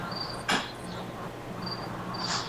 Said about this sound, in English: All the nature insects and bees buzzing, crickets going.